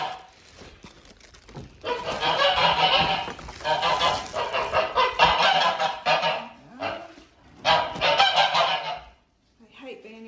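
Domestic geese shut in a stable during a bird flu lockdown honk close by in loud, overlapping bursts for most of the span, with a short quiet gap near the end.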